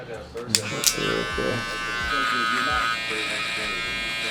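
An electric hair trimmer buzzes steadily close by during a haircut on straight, coarse hair, with a couple of sharp clicks early on and voices talking underneath.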